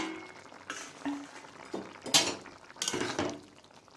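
A metal lid lifted off a cooking pot of tamarind sour curry with onion stalks, sweet potato and tomato gives a couple of short clanks and rattles among soft kitchen clatter.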